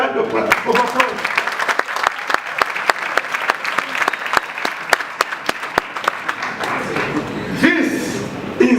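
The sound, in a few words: audience applause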